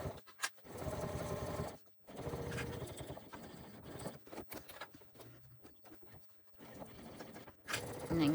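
Sewing machine stitching and pivoting around the tapered lining of a crossbody bag, with a close whirring run of needle strokes that stops and restarts in several bursts separated by brief pauses.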